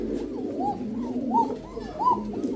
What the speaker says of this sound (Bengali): মাদি নর দোনোটাই ডাকে, দোনোটাই এমন ডাকে, একদম চিকন কণ্ঠ